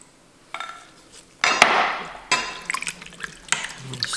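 Beef broth pouring from a measuring cup into a soup pot, a few short splashing bursts with faint clinks, close by and without speech.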